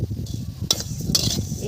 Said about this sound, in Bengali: এইভাবেই ভেজে নিয়েছি, আর ভাজবো না বেশি।